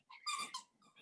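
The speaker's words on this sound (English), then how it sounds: "Zoom calls are like the one time she loves squeaky toys." A pet dog in a home squeaks a squeaky toy in the background, giving short, bright, high-pitched squeals in quick bursts, fairly close.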